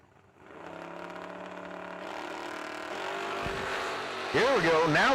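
Drag race cars, including a 1988 Camaro, launch from the line, engines building from a low idle into a loud, rising roar, while an announcer talks excitedly over the noise.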